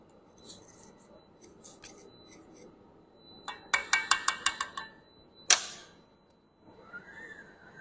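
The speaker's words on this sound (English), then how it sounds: "Now I'm just going to scrape it down again." A utensil scrapes flour dough down the sides of a mixing bowl: a quick series of crisp scraping strokes, a single sharp knock, then quieter rubbing, all close and fairly soft.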